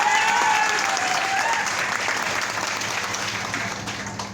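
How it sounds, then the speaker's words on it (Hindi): A large hall audience at a motivational speech event claps loudly, a thick wash of applause with some voices beneath it, gradually tapering off toward the end. "जोरदार तालियां होना चाहिए।"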